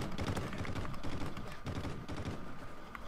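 Rapid automatic gunfire from Call of Duty: Ghosts, dense overlapping bursts sustained loud and continuous throughout, with no talk.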